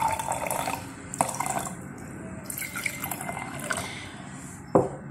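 Water being poured and split between two containers for a salt-solution chemistry demonstration, with soft dripping and trickling splashes running through, a couple of sharper splashes near the middle and end, close and fairly quiet.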